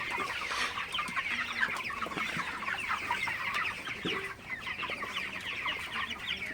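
Broiler chickens clucking steadily throughout, a dense flock chattering close by with overlapping calls and no talking.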